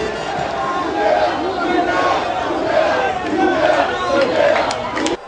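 Large crowd greeting the president during a visit to a footbridge, a loud sustained roar of shouting and cheering voices, with chanting and babble blending together.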